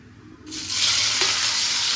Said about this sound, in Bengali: তেলটা গরম হয়ে গেছে। আর চচ্চড়ি মানে কালো জিরে দিয়ে করলে খুবই টেস্টি আসে। তা আমি প্রথমে এবার কালো জিরেটা দিয়ে দিলাম। তো একটা গোটা বড় পেঁয়াজ এইখানে দিয়ে দিলাম।